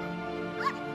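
A dog seed planted in Lego Batman gives off a brief dog bark or yip near the end of the second, over steady game background sound.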